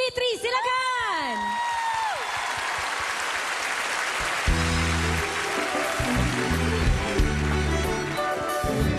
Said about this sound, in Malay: Kita semua berikan tepukan